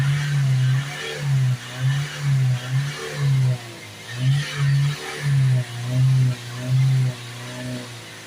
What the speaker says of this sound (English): There comes back the limited power there again, so we're now can't rev past that point.